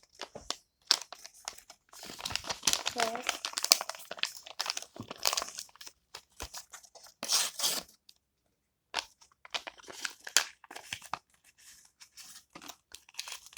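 Paper packaging holding a Stitch collectible crinkles and tears in close, sharp bursts, with crumpling rustles coming in uneven spurts broken by brief quiet gaps.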